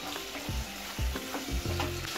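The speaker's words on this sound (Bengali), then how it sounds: "টমেটোগুলো ভাজা হয়ে গেল" Softened, salted tomatoes fry in oil with garam masala, a steady close sizzle broken by three even stirring scrapes.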